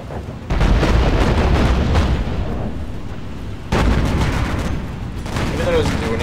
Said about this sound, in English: I love firing AA at them just to let them know I'm here